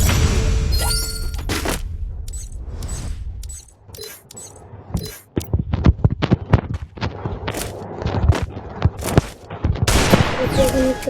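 Gunfire in a shooting video game, bursts of sharp shots and rapid clusters of reports with short gaps between them, loud and close, mixed with game effects and someone talking at times.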